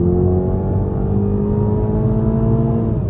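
A 2023 Toyota GR Supra with the 2.0-litre turbo engine accelerating, its engine note loud and close and climbing smoothly in pitch for about three seconds, then easing off at the end.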